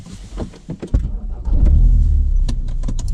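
Ford Focus RS engine running warmed up during a tuning and data-logging session, a steady close rumble that swells loud after a few brief knocks and clicks, then holds a continuous idle to the end.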